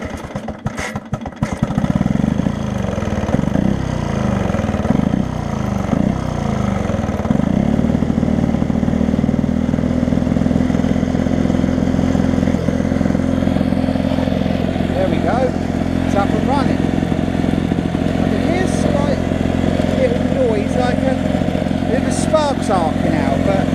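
Vintage Masport Iron Horse two-stroke lawn mower being started and left running: a few seconds of pulls and sputters, then a steady, buzzing small-engine drone close up with some rattling for the rest of the clip.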